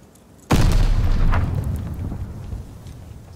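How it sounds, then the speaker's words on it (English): A grenade explodes in Call of Duty: Vanguard with a sudden loud, deep boom, then a rumbling blast that slowly fades over a few seconds. "Incoming grenade."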